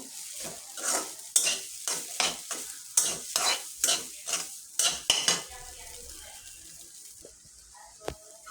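Masala noodles being stirred in a pan, a quick run of about a dozen rhythmic scraping clinks of a utensil against the pan over a light sizzle, close up, ending in quieter sizzling with one last clink.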